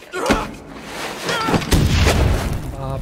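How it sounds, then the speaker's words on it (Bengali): A grenade explodes in the video game Far Cry 6 with a sharp blast followed by a cluster of heavy, loud booms and rumbling debris that fill the rest of the moment. "ওকে একটা গ্রেনেড ছুড়ে"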